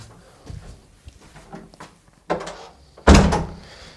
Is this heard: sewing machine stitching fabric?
no